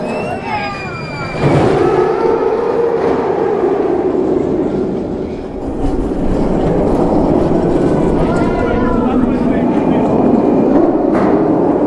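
A loud, continuous rumbling ride on the Speed roller coaster at Oakwood, with rattling wheels and rising whooshes, punctuated by squealing metallic screeches near the start and later on.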